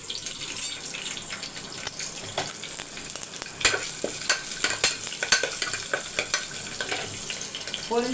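Curry leaves and a green chili fry in a pan: a soft, continuous sizzle broken by irregular clinks and scrapes of stirring, with no one talking.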